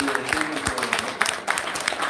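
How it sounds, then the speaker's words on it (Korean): Brief audience applause at an international forum urging the repatriation of prisoners of war, a steady patter of clapping from a room of people with some voices underneath. "박수 한번 주시죠."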